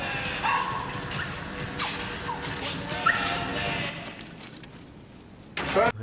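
A dog in a scene from The Silence of the Lambs whimpers and yips in high, wavering cries, repeated several times at close range, ending in a sharper burst.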